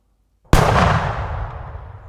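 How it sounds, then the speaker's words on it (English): A cannon shot used as a sound-design element: one sudden, sharp blast after a short silence, then a long, bright, ringing tail that slowly fades. "let's bring up a cannon."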